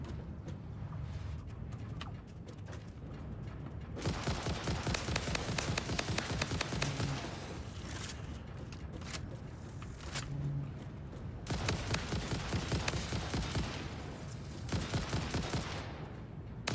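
Rifle gunfire in the video game Satisfactory, dense rapid bursts of shots in long stretches with short pauses between them, moderately loud and without talk.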